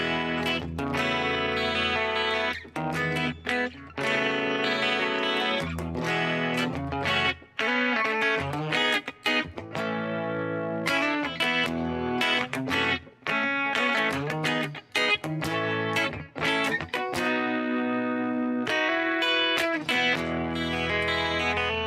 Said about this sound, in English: this is all the three effects and in combination with the Vox amplifier